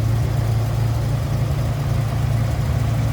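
The engine of a 1946 Packard Custom Super Clipper 8 idles steadily with a low, even hum and faint mechanical texture, close and unchanging.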